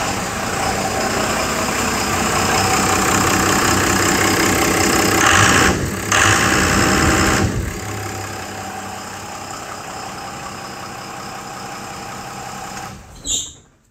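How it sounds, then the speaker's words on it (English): A 2001 Dodge Ram 2500 pickup idles with its PCM/ECM bypassed, a steady close engine drone that dips briefly partway through, then carries on and ends with a short click. "your truck will turn on."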